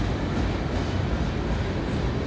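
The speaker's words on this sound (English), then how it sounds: "Nice locomotives on that train." A CSX freight train with locomotives rolls past close by, a dense, loud rumbling roar of wheels and cars, steady and continuous over the short span, with no talking.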